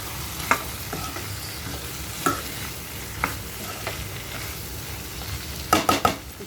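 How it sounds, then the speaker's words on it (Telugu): Onion frying in a pan for Telugu-style chicken fry, a steady soft sizzle with occasional scraping stirs of a spoon, a few sharper clinks near the end, no voices. "ఆనియన్ కూడా వేసి బాగా తిప్పుకోవాలి."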